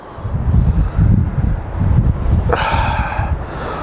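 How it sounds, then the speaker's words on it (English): Strong gusting wind buffets the microphone at a mountain campsite in Big Bear, low rumbling surges rising and falling in waves, with a brief rustle partway through. "That wind is kicking."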